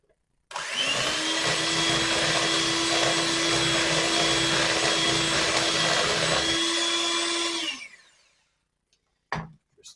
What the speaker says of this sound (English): Then we put the cream in. Give that a whisk around as well.